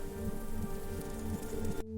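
Steady rain falls in an unbroken, fairly loud hiss that cuts off suddenly near the end, with low tonal layers running underneath.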